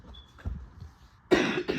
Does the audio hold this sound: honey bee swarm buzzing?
no